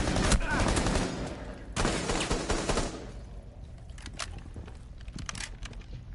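Frantic bursts of gunfire during a Rainbow Six Siege match, loud sharp volleys in the first half easing into scattered, fainter shots and clatter, with a voice heard faintly.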